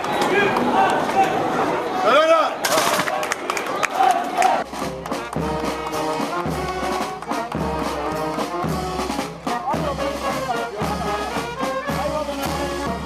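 A crowd at a military parade in Ayvalık, with a military band passing, chants slogans and cheers, followed by a voice speaking over a steady, rhythmic thumping beat with crowd noise underneath.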